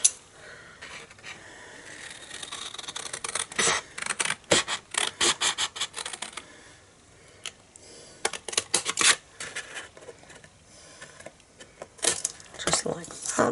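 Scissors snip through a paper gift box in irregular bursts of crisp cutting and rustling, close to the microphone, with quiet pauses between cuts.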